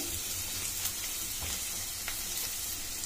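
Tomato being stirred into sorghum upma in a hot pan, a steady low sizzle of frying with a few soft spoon scrapes, close and continuous, no talking.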